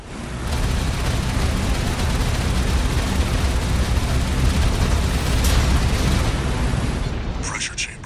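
A pressure chamber blows up in the video game Armored Core 6, a loud, sustained roaring blast with deep rumble that holds for several seconds before cutting off, with a brief crackle near the end.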